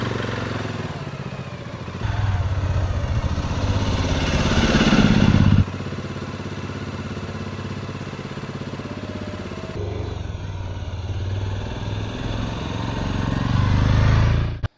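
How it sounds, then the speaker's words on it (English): A Suzuki King Quad 750 four-wheel-drive ATV engine drones steadily, revving louder in the middle then settling, with rattling clatter as it rolls across a homemade bridge, no voices. "This is a Suzuki King Quad 750 4-wheel drive"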